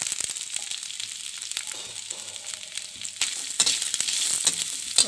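Grated coconut frying in a pan with chillies for a chutney gives a light crackling sizzle with scattered pops and scraping stirs, growing busier toward the end.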